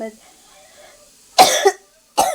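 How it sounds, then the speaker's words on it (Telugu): A person coughs twice from dried chili fumes while roasting spices, close to the mic: a harsh burst followed by a shorter one after a brief pause, with quiet in between. "ఎండుమిరగాయలకి ఆవిరి వస్తుంది ఫ్రెండ్స్, దగ్గు వస్తుంది"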